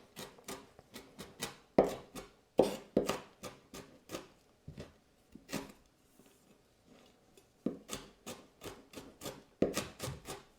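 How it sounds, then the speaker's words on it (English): A knife chops lemongrass on a board in quick, sharp rhythmic bursts of strokes, with a short pause in the middle before the chopping resumes, close and clear. "give it a little chop like this before you throw it in your mortar and pestle"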